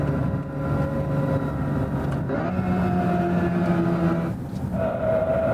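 A 2024 Hyundai IONIQ 5 N electric car accelerates hard with its simulated engine sound and fake downshifts, a loud, steady tonal drone that rises in pitch, drops at each shift, then climbs again.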